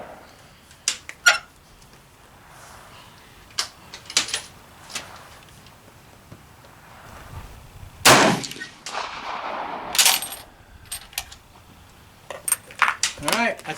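Swiss K31 rifles fire at an outdoor range, a string of sharp cracks spaced irregularly, some louder and closer than others, with people talking between shots.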